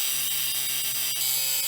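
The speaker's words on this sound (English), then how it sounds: "We're gonna try cutting this piece in half and simply welding it back together." A metal piece is cut in half for welding with a power tool, a loud continuous high whine with a steady tonal hum underneath, close and unbroken.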